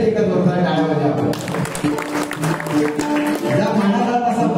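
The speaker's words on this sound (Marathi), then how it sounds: "एकदा माझी इंडिया टीम साठी एकदा जोरदार टाळ्या वाजवा आपण" An audience at a bhajan performance by buvas breaks into loud clapping about a third of the way in, the applause continuing steadily beneath sustained music and voices.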